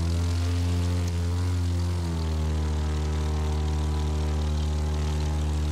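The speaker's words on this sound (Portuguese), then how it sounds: "Peraí, deixa eu nivelar o avião." Propeller airplane engine in The Crew 2 racing game, a loud, steady droning hum with strong low harmonics that shift in pitch once as the plane levels out, continuous throughout.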